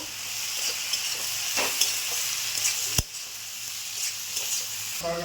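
A spice mix of ground coriander and cumin sizzles steadily in a pan, with a constant hiss broken by occasional spoon scrapes and one sharp clack.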